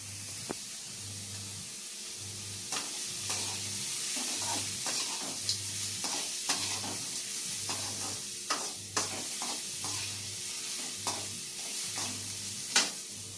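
Beetroot chutney mixture sautéing in a pan, a steady sizzle with a rhythmic scrape of stirring repeating every second or so and occasional sharper clinks of the spoon against the pan.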